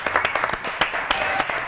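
Light clapping from a small studio audience on a French television show, a quick run of irregular, close hand claps lasting under two seconds.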